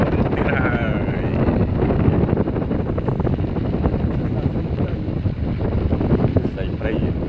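Motorboat engine running steadily nearby on the water at the Naga bridge, Kampong Kdei village, Siem Reap, with wind buffeting the microphone and people talking over the continuous drone.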